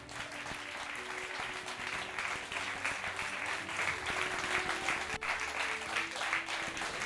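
Audience applause at a French student awards ceremony for studies and innovation, sustained dense clapping from a crowd, continuous and even for several seconds.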